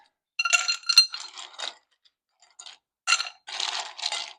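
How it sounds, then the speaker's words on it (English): Ice cubes drop into a cup for a vodka drink at a tailgate, a run of bright clinks and clatters in several quick bursts, close and fairly loud, with short pauses between scoops. "we're going to fill our cup with ice first"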